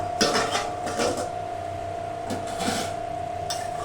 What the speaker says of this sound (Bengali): 5 মিনিট হয়ে গেছে, আমি ঢাকাটা খুলে দেবো।